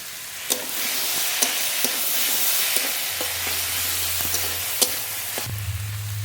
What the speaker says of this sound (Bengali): চাল কুমড়ো একটু নেড়ে নেড়ে খুব ভালো করে ভেজে নিয়েছি